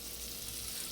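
Butter melting in a pan gives a soft, steady sizzle with faint frying crackle, continuous and fairly quiet throughout the short moment.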